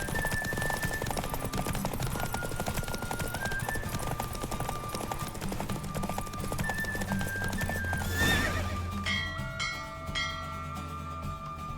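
Rapid hoofbeats of a galloping horse in The Witcher 3: Wild Hunt, with neighs and whinnies, set against a busy game soundscape; a chime-like tone rings near the end.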